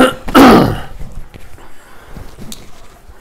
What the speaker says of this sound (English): You got to work on not clearing your throat in the middle of the mic.